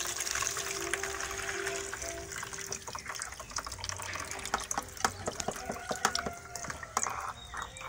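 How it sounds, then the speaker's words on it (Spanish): Dirty, sediment-laden radiator flush water from a car cooling system poured into a container, a continuous close splashing and gurgling with scattered drips and knocks toward the end. "Y ahora voy a vertir esto en este recipiente"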